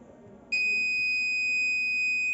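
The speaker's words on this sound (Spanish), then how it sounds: "y nuestra alarma está activada" A simulated Arduino motion-detector alarm switches on suddenly with a steady, piercing electronic buzzer tone that holds unbroken, with faint background hum before it starts.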